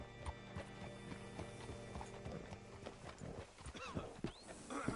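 Horse hooves clip-clop steadily on a hard surface in the video game Red Dead Redemption, with a horse whinnying and snorting near the end amid faint background ambience.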